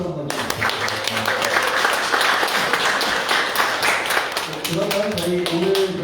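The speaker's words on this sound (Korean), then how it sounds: "우리 청년 위원들한테 고생하셨다고 박수 한번 주세요" Audience at a political party youth academy session claps for the youth committee members, a burst of many hands that swells and then thins, with voices talking over the end.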